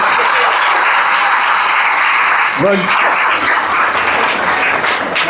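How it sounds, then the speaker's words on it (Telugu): A school parents' and teachers' meeting audience claps loudly and continuously throughout, and a voice briefly rises over the applause. "అర్థమైంటే గట్టిగా చప్పట్లు కొట్టండి"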